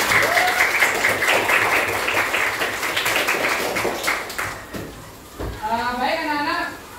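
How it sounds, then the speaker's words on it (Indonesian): Schoolchildren in a classroom clap together in a brisk burst of applause lasting several seconds, fading out before a voice begins speaking. "Berikan tepuk tangan untuk Wadi."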